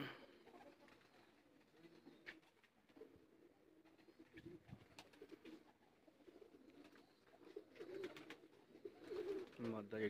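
Breeding pigeons coo softly in a loft, steady low murmurs that carry on throughout. Faint background noise and a quiet voice can be heard under the birds.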